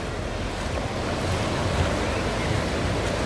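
Ocean surf at Praia do Forte beach in Cabo Frio, a continuous broad wash of waves with wind buffeting the microphone, loud and steady throughout.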